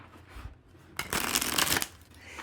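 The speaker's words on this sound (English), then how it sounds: "we are going to shuffle and pull a card and read from the book" Glossy Tarot of the Owls cards being shuffled, a soft hiss building into a dense, close flurry of riffling snaps for about a second before fading back to quiet.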